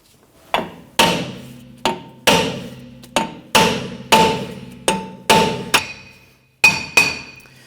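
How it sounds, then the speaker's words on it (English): A hammer strikes a brake drum on a 2017-2020 Hyundai Elantra about ten times at a steady, unhurried pace, each blow ringing briefly with a metallic tone, close and loud with no talk. "tap around the drum itself to go ahead and loosen everything up"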